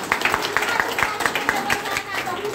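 A group claps loudly for an online meeting trainer, rapid overlapping hand claps forming a continuous rhythmic patter, with speech faintly underneath.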